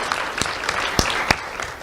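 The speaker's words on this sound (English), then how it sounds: "Let's have a round of applause for Mary," Crowd applause at a community awards event, a dense wash of clapping with a few sharper individual claps standing out, brief and fairly close.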